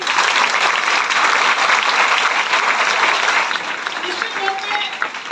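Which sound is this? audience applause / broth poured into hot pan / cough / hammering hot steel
audience applause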